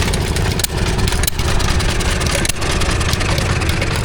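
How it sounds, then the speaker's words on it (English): Stationary engines running at the Broyle country show near Ringmer, Sussex: a loud, steady idling chug with a low mechanical throb, broken by a few brief clunks, and no speech. "because when I go back down here to my right is some more stationary engines."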